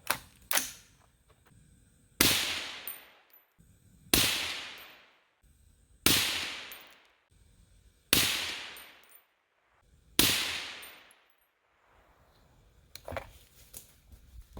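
Six loud Daniel Defense DD5 V3 gas-operated rifle shots with 168-grain open tip match ammunition, evenly spaced about two seconds apart outdoors, each sharp crack trailing into a long fading echo.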